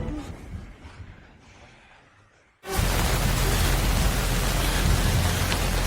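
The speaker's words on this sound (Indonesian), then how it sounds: "Saat hujan turun deras" Heavy rain bursts in suddenly partway through, a loud steady roar of downpour after a quieter, fading stretch.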